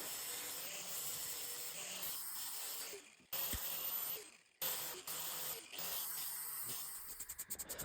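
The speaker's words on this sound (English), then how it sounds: "I then flip it over and spray paint the bottom of the lamp" An aerosol spray paint can hisses at close range while coating the base of a metal lamp made from an old valve, in several bursts with brief pauses and some short taps near the end.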